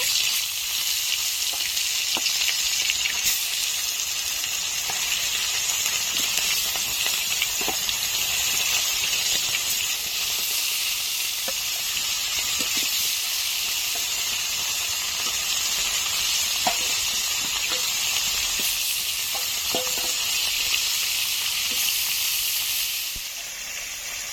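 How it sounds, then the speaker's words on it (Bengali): Bhola fish frying in hot oil in a kadai, a steady loud sizzle and hiss with occasional crackles, continuous for the whole stretch and with no talking. "তেল গরম হয়ে গেছে মাছগুলো দিয়ে দেবো"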